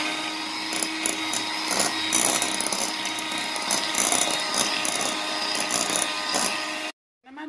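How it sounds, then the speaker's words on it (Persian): Electric mixer whipping eggs with sugar for a pie batter, a continuous close whirring buzz with rattling beaters, steady for about seven seconds before cutting off abruptly. "من با میکسر لاد میزنم"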